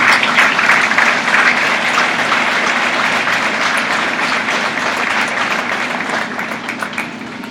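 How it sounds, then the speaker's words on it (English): Sustained applause from a livestock show audience for exhibitors leaving the beef showmanship finals ring, a steady dense patter of many hands filling the arena and fading slightly toward the end. "Let's give all these exhibitors a round of applause."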